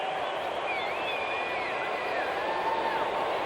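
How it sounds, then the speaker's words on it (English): Baseball crowd in a stadium at a 1993 Atlanta vs Montreal game, with a sustained roar of cheering and whooping at an even level, steady and distant-sounding. "A derisive cheer from the fans."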